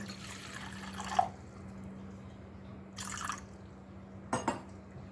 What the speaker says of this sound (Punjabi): ਉਹਦੇ ਵਿੱਚ ਅਸੀਂ ਪਾਵਾਂਗੇ ਹੁਣ ਅੱਧਾ ਕ ਗਲਾਸ ਜਿਹੜਾ ਪਾਣੀ ਦਾ